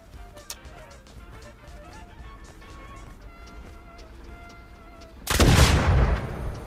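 Gunfire in the game Rust Console Edition: a steady string of sharp, scattered shots, then a sudden loud, close burst of fire erupts in the last second or so.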